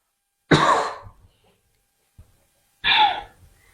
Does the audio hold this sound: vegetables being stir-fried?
no